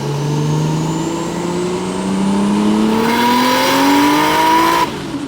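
A Toyota JZX car engine revs up in a long, loud rising pull, the pitch climbing steadily as the turbo spools, then cutting off sharply near the end with no talking.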